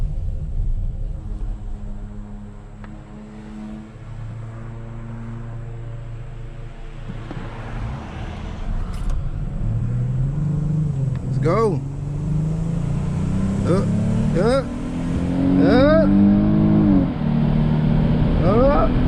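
A 2020 Dodge Charger V6 engine drones steadily, then revs and accelerates in repeated rising pulls with gear changes, heard from inside the car with people talking over it.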